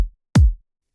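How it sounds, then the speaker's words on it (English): A single electronic kick drum from a four-on-the-floor beat in FL Studio, for an electro swing J-pop track: one deep, punchy thump with a fast pitch drop, heard alone after the tail of a previous hit. "We'll use the very basic 4 on the floor drum beat. So the kick goes like this."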